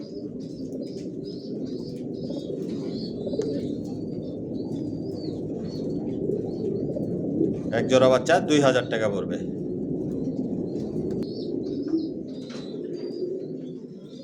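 Racer pigeons coo in a loft, a low steady murmur with a short burst of flapping wings partway through, all under someone talking nearby.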